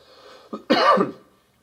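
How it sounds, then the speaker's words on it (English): A single short throat-clearing cough, close and fairly loud, preceded by a brief smaller burst, then silence. "Stop coughing!"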